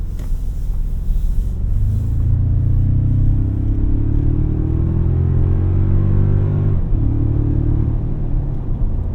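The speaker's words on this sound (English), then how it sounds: "Now these Goodyears do emit quite a bit of road noise" Road noise from 33-inch Goodyear tires on a 2025 Toyota Tacoma TRD Pro, heard from inside the cabin as a loud, steady low rumble and drone. The engine pitch rises and then drops near the end, and nobody talks.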